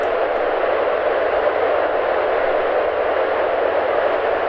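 A rocket engine roars at full throttle on launch in the video game Kerbal Space Program, a loud, steady, broadband rumbling hiss that holds unchanged throughout with no voices.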